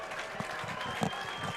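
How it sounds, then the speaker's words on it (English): A crowd claps at a high school football game between the Northampton Konkrete Kids and the Pennsbury Falcons at Falcon Field, a fairly faint, steady spatter of applause from the stands with some speech mixed in. "Zeke Spencer gets a round of applause"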